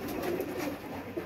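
Rampuri and Teddy pigeons coo softly at close range, with low murmuring calls rolling on continuously over a faint hiss.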